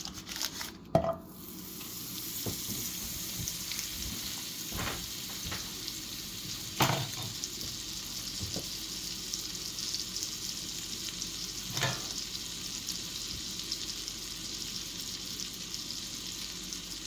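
Butter melts and sizzles in a hot frying pan while hash browns are made, a steady soft crackling hiss lasting throughout, broken by a few sharp clinks and taps of utensils against the pan.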